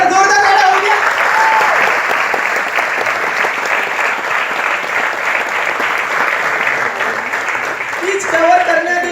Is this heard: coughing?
no